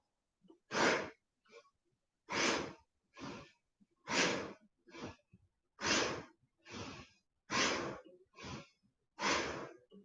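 Yoga breathing during a sadhana preparation session: about ten slow, deep breaths alternating between long airy exhales and shorter inhales in a steady rhythm, close and clear against silence, with no speech.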